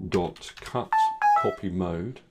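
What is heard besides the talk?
phone ringing or notification sound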